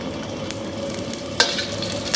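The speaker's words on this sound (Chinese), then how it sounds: "油热以后下入花椒， 下入辣椒" Sichuan peppercorns and dried chili peppers crackle and sizzle in hot oil in a wok for a home stir-fry, a steady close hiss broken by a few sharp pops and spatula scrapes.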